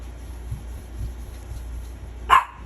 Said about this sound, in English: My dog has a big mouth all the time over nothing.